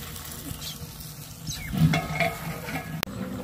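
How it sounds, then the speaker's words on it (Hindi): Onions sizzle and crackle in hot oil while frying for biryani outdoors, a steady close hiss with stirring scrapes and a sharp clank of a utensil against the pot. "प्याज को तड़का लग रहा है जी,"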